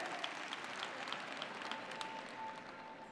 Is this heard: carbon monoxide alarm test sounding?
no